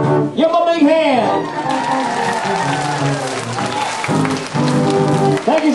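Audience clapping and cheering for children after they finish a song on a kids' show, a steady burst of applause with crowd voices mixed in.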